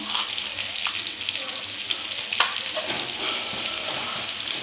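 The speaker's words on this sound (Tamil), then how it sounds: "இப்போது வெங்காயம் நல்லா வதங்கி வரட்டும்." Onions sauté in a pan with salt for a chicken gravy, giving a steady, close sizzle with occasional soft stirring scrapes and no talking.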